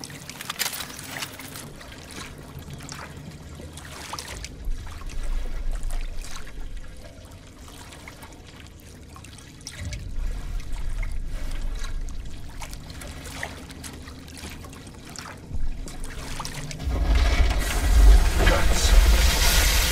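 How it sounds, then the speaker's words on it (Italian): Water rushes and churns in a flooding chamber in the Call of Duty: Advanced Warfare campaign, a steady low roar with surging swells that builds louder toward the end, with no voices over it. "L'acqua si alza, serve un'uscita!"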